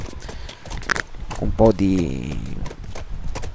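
Horse hooves clip-clopping in the video game The Last of Us, a brief burst of hoof beats mixed with game sounds while someone talks over it in Italian.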